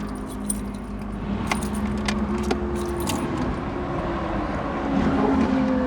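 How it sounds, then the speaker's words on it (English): A key slides into the ignition of a 1950s Mercedes 220 Ponton, giving a few small metallic jingles and clicks over a steady low hum of the surrounding space. "So I have the key right here. Usually it has only 2 keys, but in the past 50 years they changed the keys quite a lot. So let's insert it."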